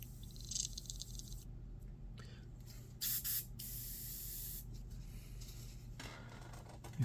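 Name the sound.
airbrush spraying to clear tip dry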